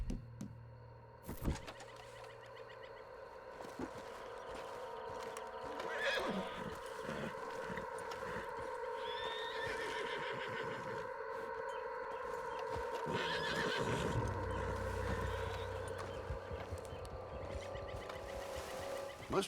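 In the video game Red Dead Redemption 2, a horse whinnies and neighs and its hooves clip-clop, fairly faint and set against a quiet outdoor background with occasional bird calls.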